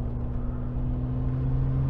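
Brabus G800, a tuned Mercedes G-Wagon, driving on an open road: a steady low engine drone with a constant tonal hum, close and even, no talking.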